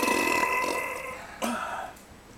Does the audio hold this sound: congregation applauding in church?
no